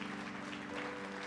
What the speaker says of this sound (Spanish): Levántale un fuerte aplauso a Jesucristo